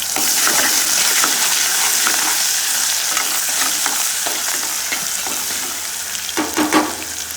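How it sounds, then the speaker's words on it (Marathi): Ginger garlic paste sizzling in a hot frying pan while cooking chicken, a steady loud hiss and crackle with occasional stirring scrapes, close up and continuous throughout. "त्याच्यानंतर मी टाकते ही आलं लसूणची पेस्ट."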